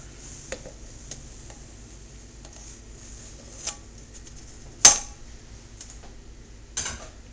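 Flour, sugar, cornmeal and salt being stirred together in a mixing bowl make quiet scattered taps and scrapes, broken by a few sharper clinks of the utensil against the bowl, with no talking.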